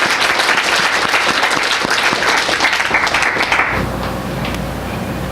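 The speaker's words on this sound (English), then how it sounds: "Can we give one more big round of applause for the Penn Prison Program?" An audience at a benefit reading applauds loudly in a dense, sustained wash of clapping that cuts off sharply near the end, leaving a quieter room tone.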